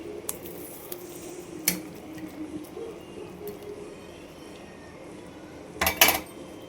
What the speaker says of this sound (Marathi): तर याच्यात आपण टाकणार आहे पनीर.